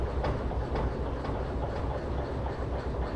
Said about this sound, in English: Okay, train is fully loaded